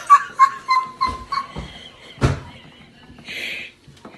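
A dog whimpers and yips in a string of short, high, close cries, followed by a sharp knock or slam and a brief hiss, with no talk.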